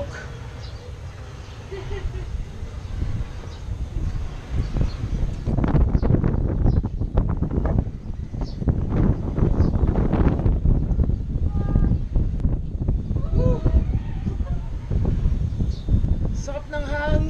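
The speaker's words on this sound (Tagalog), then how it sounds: "Lakas ng hangin na sarap." Strong wind at the Bantay bell tower in Ilocos Sur buffets the microphone with loud, gusty rumbling throughout. Voices talk over it at times and a few faint bird calls come through.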